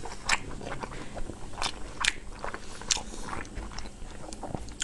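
Close, crisp biting and wet chewing of braised pork with wide potato-starch noodles, several distinct crunchy bites and squishy chews spaced irregularly over steady quiet mouth sounds, with no talking.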